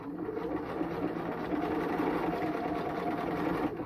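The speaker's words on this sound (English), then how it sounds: "I'm just going to stitch all the way down" Sewing machine stitching an invisible zipper, a rapid even whirring chatter running steadily and fairly quietly from start to finish.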